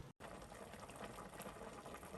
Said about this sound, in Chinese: 胡椒粉、1小勺鸡粉，在锅中再咕嘟7-8分钟左右